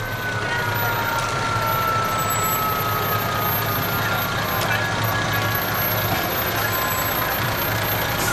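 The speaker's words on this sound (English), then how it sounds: "representing the Conneaut Lake Park Voluntary Fire Department, 3 vehicles from over at Conneaut Lake Park" Three volunteer fire department vehicles roll past in a waterfowl parade, giving a steady truck engine drone with faint high siren or beeping tones over continuous outdoor crowd noise.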